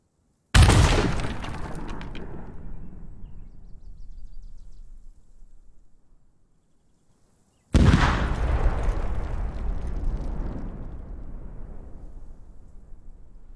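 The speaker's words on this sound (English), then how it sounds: "These are sounds that are triggered as a result of the explosion." Two heavy video game explosions built in Unity and Wwise, each a sudden loud blast followed by a long rumbling, resonating decay with scattered debris, separated by several seconds of silence.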